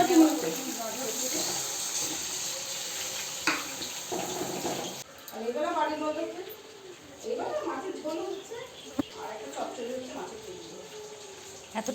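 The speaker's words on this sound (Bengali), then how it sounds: "তাহলে আমি জল দিয়ে দিই" Water poured into vegetables frying in a pan, giving a rushing hiss that cuts off partway through, then softer sizzling and stirring while someone talks.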